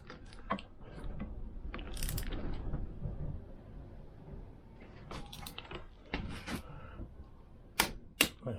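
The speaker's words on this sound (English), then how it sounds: "if we get our torque wrench and set it to between 55 and 60 pounds per square inch" Torque wrench ratcheting in short clicking bursts while a flywheel is tightened on a Vespa PX engine during a rebuild, quiet and close, with pauses between the clicks.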